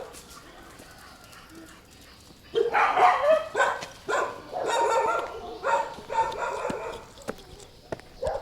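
Stray dogs on a mountain path near a temple in Phatthalung, Thailand break into a cluster of overlapping barks after a quiet start, several animals yapping fairly close and loud over faint outdoor background.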